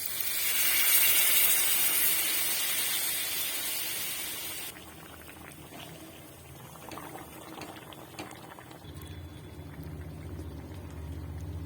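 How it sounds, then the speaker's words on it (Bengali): Water poured into a hot pan of dal makhani sets off a loud, steady boiling hiss that drops away after a few seconds, leaving quieter bubbling and faint kitchen clatter. "এবার জল দিচ্ছি।"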